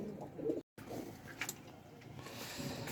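A Mushki Ablak pigeon coos softly inside a cage, a few low, rounded coos close by but faint, with a brief dropout partway through.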